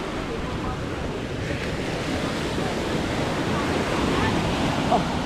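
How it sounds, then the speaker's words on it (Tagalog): Steady roar of heavy surf with crashing waves, mixed with gusting wind buffeting the microphone; continuous and loud throughout. "Ang lalaki ng alon"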